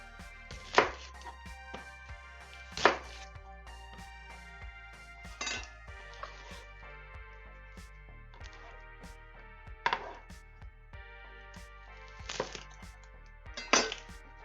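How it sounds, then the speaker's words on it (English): Knife chopping an onion on a cutting board, about seven sharp, separate cuts at irregular intervals, close and fairly quiet over a low steady background hum. "before we start cutting up the onion"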